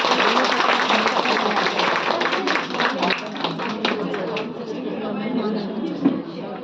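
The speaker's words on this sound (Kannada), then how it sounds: "ಒಮ್ಮೆ ಜೋರಾದ ಚಪ್ಪಾಳೆ ಮಾಡಿ" An audience at a Women's Day event honouring a chief guest bursts into loud, dense clapping that gradually thins out toward the end, with some crowd voices mixed in.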